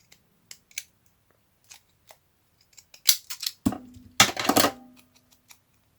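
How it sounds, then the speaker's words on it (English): Scissors cut paper for a craft project, starting with a few sparse quiet snips and building to two louder clusters of crisp close cuts, with no talk. "Going to cut this slightly smaller."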